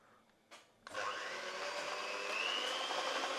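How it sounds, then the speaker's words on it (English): An electric mixer whisks lemon sponge cake batter, starting with a couple of clicks and then running as a loud, steady whir that continues to the end. "I'm gonna whisk this together"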